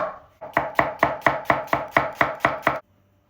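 A knife chops a large onion on a cutting board with ten quick, evenly spaced sharp knocks, close and crisp, then silence.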